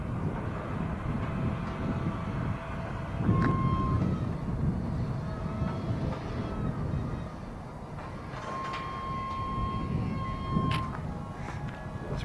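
A long CSX freight train with distributed power units rumbles and creaks as it begins to creep forward from a stop, a steady low mechanical drone with faint metallic squeals, heard from trackside.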